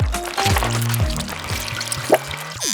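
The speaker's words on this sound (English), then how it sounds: "First, I pour it into the 2 separate plastic cups I made." Thick Nutella mixture pours into plastic cups, a soft steady flowing sound with a small splat near the end, under a bright electronic music bed.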